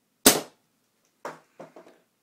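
Flasc TM-15 paintball marker firing a single loud, sharp shot, followed a second later by a few fainter clicks and rattles of the mechanism.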